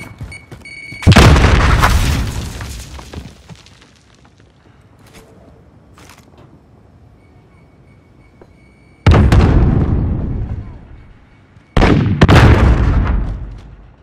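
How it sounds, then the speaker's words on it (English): Grenade blasts in Call of Duty Modern Warfare: a loud close boom with a long rumbling decay, then after a quiet stretch two more heavy explosions in quick succession, each fading slowly. "Grenade out!"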